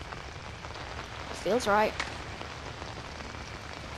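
Steady rain hissing in the dark outdoors of the Outlast horror video game, a continuous wash beneath a brief spoken comment from a player.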